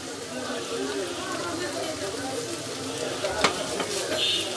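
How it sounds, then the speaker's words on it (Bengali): Chicken mince and vegetables are stirred in a frying pan over a steady sizzle, with scraping spatula strokes and a sharper clink near the end; a voice talks over it. "ভালো করে আমি নাড়াচাড়া দিয়ে মিশিয়ে দিতেছি চিকেন আর সবজির কিমাটা"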